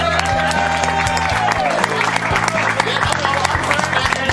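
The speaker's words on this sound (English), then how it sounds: "Very much round of applause." Applause from the audience at a live close-up magic and comedy show, a loud burst of crowd clapping that runs throughout over a steady musical tone in the background.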